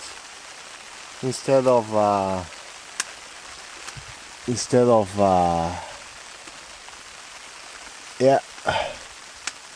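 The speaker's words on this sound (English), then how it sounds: "Also, it started to rain so all of a sudden." Rain falling on a hot tent during a winter overnight camp, a steady soft patter across the whole stretch, heard beneath someone talking in short bursts.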